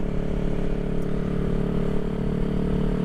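The engine of a 1975 Honda CB360T motorcycle idles close and loud with a steady, even rumble and no pauses.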